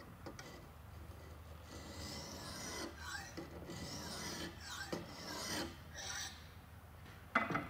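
Steel blade drawn repeatedly through an EzeSharp sharpener with a wedge attachment, giving a series of close, raspy filing strokes with brief pauses, ending on a sharper scrape.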